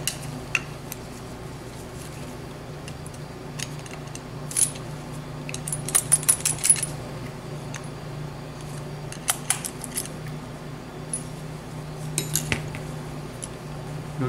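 Small metallic taps and clinks ring out in short bursts as a snap ring is knocked into its groove on a scooter, fairly quiet against a low background hum, with no talking.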